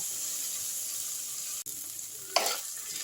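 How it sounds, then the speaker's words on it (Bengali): Okra sizzles in a hot frying pan with a steady, bright hiss, interrupted by a sharp click and then a louder burst of sputtering as it is stirred, close and with no voices. "ভেন্ডিটা দেখো একটু ভাজা ভাজা করে নিচ্ছি"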